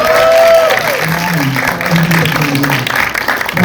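An audience applauds at the Sinag Maynila film festival event, with a burst of clapping at the start fading under a person speaking into a microphone.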